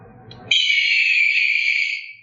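A sustained, shrill electronic screech imitating a hawk's cry from a remote dog trainer beeper collar, loud and steady for about a second and a half before fading out.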